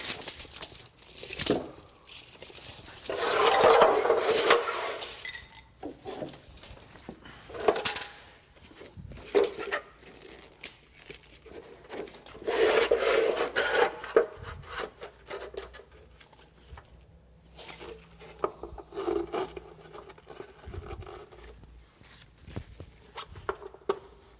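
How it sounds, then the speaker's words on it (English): A blade slices and tears through a door seal with denatured alcohol, giving bursts of crinkly, scraping cutting noise separated by quieter handling sounds, close and moderately loud. "So we'll measure it and cut the seal now."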